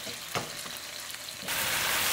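Carrots sizzling in a hot pan, a soft crackle that swells louder near the end as more hits the oil.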